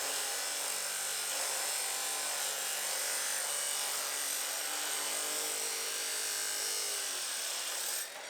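A hand saw cuts steadily through wooden fence pieces in a rough, continuous rasping drone that runs without pause for about eight seconds, close and fairly quiet, ending abruptly.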